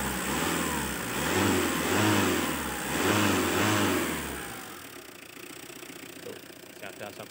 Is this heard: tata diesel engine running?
yes